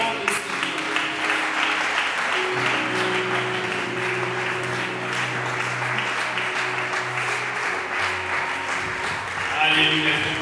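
A church congregation at a revival service applauds and cheers, with sustained clapping and shouts under amplified speech and a held musical tone.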